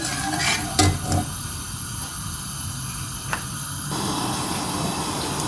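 Melted sugar syrup with food colour bubbling in a pan for motichoor laddoo, a steady hissing simmer with a few sharp clinks of a utensil, the hiss easing partway through.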